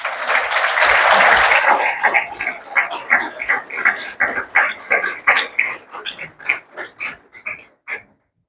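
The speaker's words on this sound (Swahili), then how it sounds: "hebu tupate makofi mengi kwa Jayroot" Guests at a Simba SC club event applaud Jayroot, a dense, loud burst of clapping that breaks into rhythmic unison claps in a steady beat, fading out after about eight seconds.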